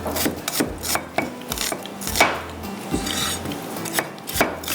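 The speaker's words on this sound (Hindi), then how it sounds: "बारीक बारीक प्याज काट लीजिएगा" A knife finely chops onions on a wooden board in a kitchen, rapid irregular rasping cuts and taps repeating close up, with no voices.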